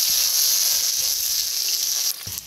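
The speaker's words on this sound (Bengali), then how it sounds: "প্রথমে আমি পেঁয়াজ রসুনটা ভেজে নিচ্ছি।" Onion and garlic fry in hot oil with a bright, steady hiss, close and fairly loud, easing off abruptly near the end, no talk.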